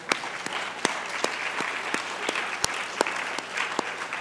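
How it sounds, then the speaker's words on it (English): Applause from a lecture audience for Christy: a continuous wash of clapping, moderately loud, with a few sharp, distinct claps standing out at a regular, rhythmic pace. "Give Christy a round of applause."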